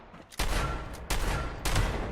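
Three loud, sharp bursts of gunfire from a Fallout 76 video game, spaced roughly evenly apart, each one a broadband crack with a lingering tail.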